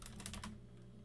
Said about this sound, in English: So we type in NV overlay EVPN, and then you type in EVPN again